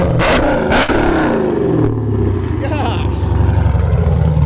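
A cammed 392 Charger revs hard with a deep, throaty rumble from a Borla ATAK exhaust, holding a loud growl close by while people speak over it briefly.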